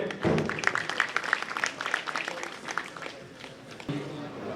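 Audience applause welcoming a young Urdu poet at a mushaira, a broad patter of clapping from a crowd that fades gradually, with a voice briefly heard near the end.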